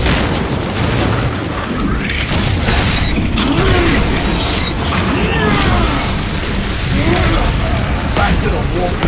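A frag grenade goes off in Warhammer: Space Marine 2 amid dense, loud battle noise, mechanical clanks and rumbling booms, with shouted voices mixed in throughout.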